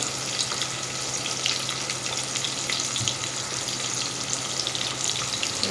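Green chillies fry in hot oil for mint rice, a dense, even sizzle that holds steady and fairly loud for the whole stretch, with no talk.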